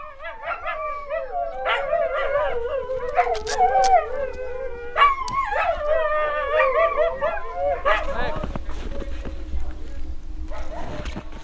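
A team of sled dogs howls and yips in a sustained, wavering chorus near the sled line, with barks and restless whines breaking in; a voice speaks over the racket.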